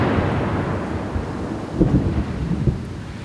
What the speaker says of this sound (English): Well, it's raining. There's thunder, there's lightning.